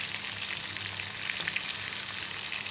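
Chicken popcorn frying in oil over medium heat on its second side, a steady, dense crackling sizzle that stays even and close throughout, with no talk.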